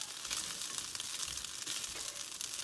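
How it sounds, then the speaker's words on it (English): Egg fried rice with vegetables sizzling in a hot pan while being stirred, a steady broad hiss running throughout with faint scraping underneath, close and constant with no talking. "And then you're just going to kind of just stir it all up."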